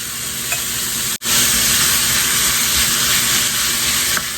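Ground beef frying and sizzling in a pan with garlic, a loud continuous hiss with a sharp clatter as the meat goes in, then steady crackling with occasional stirring scrapes.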